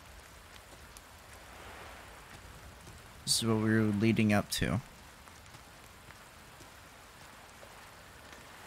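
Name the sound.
rain effects in the video game Resident Evil 4 Remake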